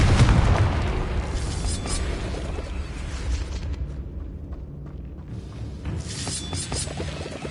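A Confringo spell explosion in the Hogwarts Legacy video game lands as a deep boom that decays into rumbling debris and crackling, fairly quiet overall, followed by a second softer burst near the end.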